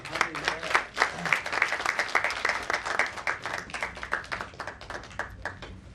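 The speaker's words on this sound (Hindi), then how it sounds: "एक बार तालियां हो जाए इनके लिए।" Audience at a stage performance claps for guests of honor invited up to speak, a lively burst of close hand clapping that rises and then tapers, with a little voice underneath.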